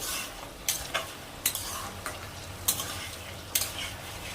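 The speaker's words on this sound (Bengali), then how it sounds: "দেখো অনেকটা মশলা কষে গেছে, আর একটু টানাবো" Masala spices for a tilapia curry with vegetable stems fry and sizzle in a pan while a spatula stirs and scrapes them, giving a steady close sizzle with repeated sharp scraping strokes.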